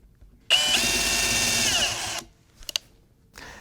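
A power drill bevels the edges of pre-drilled holes in a live edge wooden end table, one steady loud whine of about a second and a half, then a few short faint bursts and clicks.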